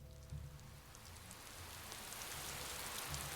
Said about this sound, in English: Then rain began to fall.